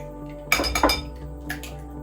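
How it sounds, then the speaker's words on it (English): Three eggs being cracked into a bowl, a quick cluster of sharp close clinks and taps followed by a fainter pair of knocks a moment later. "Now I'm going to break 3 eggs into there"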